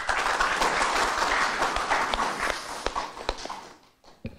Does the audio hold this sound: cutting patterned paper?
no